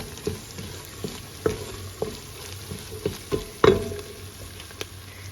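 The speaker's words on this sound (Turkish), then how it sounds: "Salçamızın kokusu çıkana kadar kavuralım arkadaşlar." Tomato paste fries in a pan with a soft steady sizzle, broken by a series of sharp scraping clacks as a spoon stirs it, one louder scrape near the end; close by and without talk.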